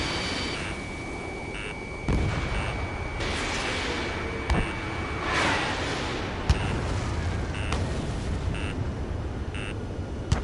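Missiles launch and explode in the jet combat game Air Combat 7, a dense stream of booming blasts and crackling bursts, with several sharp impacts standing out over a continuous roaring backdrop.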